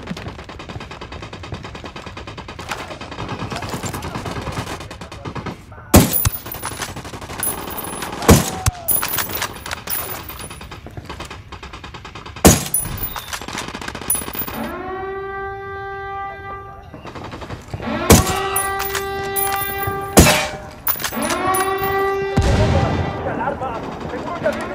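Gunfire in a firefight in the video game Ghost Recon Wildlands: scattered sharp rifle shots and short bursts, some near and loud, with ringing tones and voices talking between the shots.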